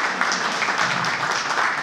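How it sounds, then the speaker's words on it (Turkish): Audience applause at a community gathering launching a mother-tongue language campaign in NRW, Germany: a steady, dense wash of many hands clapping at even loudness for the whole short stretch. "Onlara da teşekkür edelim ve bir alkış yapalım"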